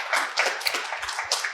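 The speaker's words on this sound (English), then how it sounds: "My students, I would require a more bigger applause" Students in a finance lab give scattered hand claps, a few distinct near claps with irregular rhythm, fairly quiet and brief.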